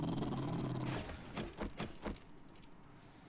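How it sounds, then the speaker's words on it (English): A hostile dog in the survival game 7 Days to Die lets out a low, rough growl, then a few short snarling bursts that fade out, heard close over a constant background drone. "there's a dog"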